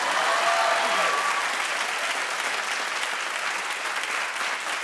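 Studio audience at a TV talk show applauds loudly, a thick wash of many clapping hands that stays strong and fairly even throughout, tapering only slightly toward the end.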